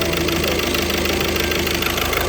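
A used scrapyard car engine, suspected of a bad head gasket, runs at a steady idle close by, with a dense, even mechanical clatter and a faint rhythmic knock throughout.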